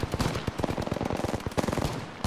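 The Flatline assault rifle in Apex Legends fires in a fast, steady automatic burst, a dense rapid train of loud close shots that runs the whole time with no pause and no talking.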